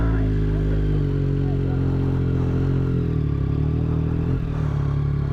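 A Yamaha R9 sport motorcycle is ridden, its engine giving a continuous loud buzzing drone with a shift in pitch partway through, up close.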